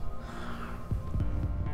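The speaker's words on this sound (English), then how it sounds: "I think you could hear his heart beating." A slow, low thumping heartbeat from the video game Mass Effect, a few soft muffled beats over a steady hum.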